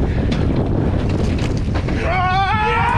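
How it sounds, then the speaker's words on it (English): Outboard boat motor running on open water while fishing for bluefin tuna, a steady broadband rumble under gusty wind buffeting the microphone, with a brief tonal whine near the end and voices talking faintly. "We got to slow down the motor."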